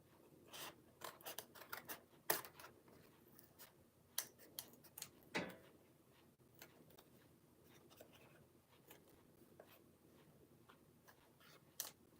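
Scissors snipping out a mask shape, quick close irregular clusters of crisp cuts with pauses between, quiet and alone.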